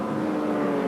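Saloon race cars from a 1988 circuit race at Kirkistown roar steadily as they pass, with a continuous loud engine drone and no break in the sound.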